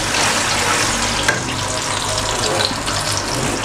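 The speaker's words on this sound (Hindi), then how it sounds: "इसमें मैं थोड़ा सा पानी डालूँगी, बिल्कुल 2 घूंट जितने" Water poured into a hot pan while making semolina halwa, a continuous broadband hiss and sizzle with splashing that stays steady and close for the whole moment.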